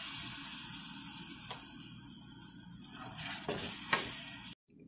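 Tamarind water poured into a hot frying pan, a steady close sizzle and bubbling hiss with a couple of brief splashes and stirring clinks near the end before the sound cuts off.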